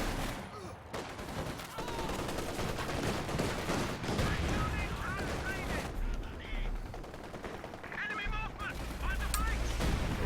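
MG34 machine gun fire in the strategy game Company of Heroes 2, dense continuous bursts of rattling shots and distant explosions layered into a loud, unbroken battle din.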